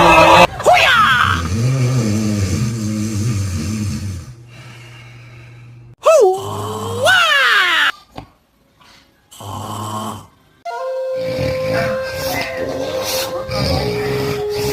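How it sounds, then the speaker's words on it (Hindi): Loud snoring from a sleeping person, harsh rasping breaths with snorts and gasps, broken by pauses and odd squeaky and mechanical-sounding noises, close and prominent. "जोरदार खर्राटा लेते हुए सबकी नींद खराब कर दिया है।"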